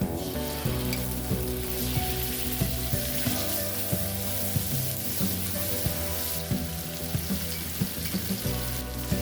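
Garlic, turmeric, chili pepper and tomato paste frying for a tomato dressing, a steady close sizzle with intermittent stirring taps and scrapes throughout, no voices.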